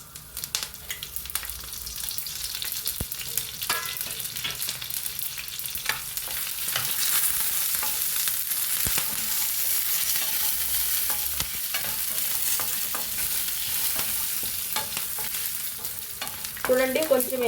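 Chicken spice mix with onion, garlic and ginger fries in coconut oil for a Kerala-style chicken dish: a steady close sizzle with scraping stirs throughout, growing slightly louder near the end.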